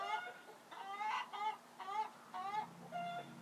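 A hen in a chicken coop, unhappy with changes to her space, squawks and clucks loudly in a run of agitated bursts with short gaps between them. No other sound competes.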